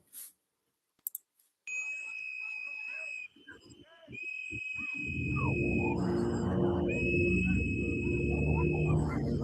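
Small whistles blown by protesters at a street protest give high steady piercing tones in repeated long blasts, layered over rising crowd noise and commotion.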